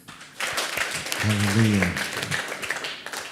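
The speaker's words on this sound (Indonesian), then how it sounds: "Tepuk tangan." Audience applause at a church talk show, a brief burst of clapping that swells for a couple of seconds under a voice exclaiming, then tapers off.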